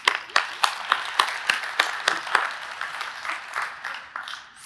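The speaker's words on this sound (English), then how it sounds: "give them a round of applause." Live audience clapping in a round of applause at a church service, rhythmic strong claps early that blend into steady, fading applause with no talk.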